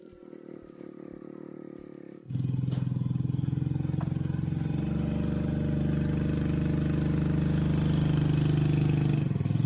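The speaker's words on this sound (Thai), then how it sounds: "ก็เลยขี่มอเตอร์ไซค์เอา ปูนขาวมาไว้ตรงแปลงผักเลย" A motorcycle loaded with a large sack of lime at the front rides toward a vegetable plot. After a quiet start, its engine starts up loud and close and keeps up a steady rumble.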